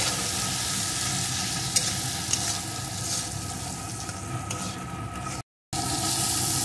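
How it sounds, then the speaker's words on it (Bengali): Masala with salt and chili sautés in a pan for a Bengali fish-oil dish, giving a steady, dense sizzle. The sizzle runs evenly with faint stirring scrapes, cuts out briefly near the end, then resumes. "এখন সমস্ত কিছুকে একটু এইভাবে কষিয়ে নেব"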